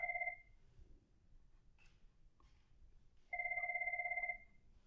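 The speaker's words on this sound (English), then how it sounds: "I got a phone call. It's just going to kind of ring as I'm uh, doing this video" A telephone rings in two electronic bursts, a short one at the start and a longer one after a pause, fairly clear over a quiet background.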